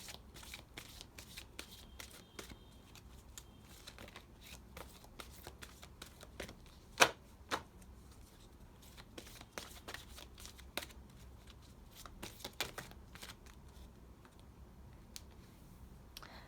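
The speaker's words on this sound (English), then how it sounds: "it might take a while to shuffle these angel cards," Angel oracle cards riffled and shuffled repeatedly, a soft flurry of papery flicks with sharper snaps now and then, close up and with no talking.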